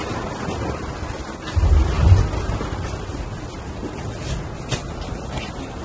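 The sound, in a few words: rain falling all day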